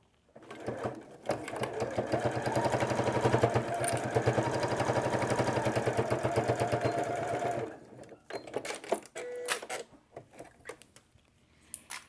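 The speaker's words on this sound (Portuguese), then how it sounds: "Vou fazer do mesmo jeito, passando uma costura de segurança." A sewing machine runs a continuous, fast-rattling safety stitch through fabric for about six seconds on a cloth toilet-paper holder with a zipper. It then stops, leaving soft handling clicks and rustles nearby.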